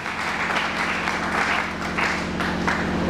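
Church congregation applauding for the Lord, a dense, steady wash of many hands clapping together, close and loud, with a low sustained tone underneath and no one speaking.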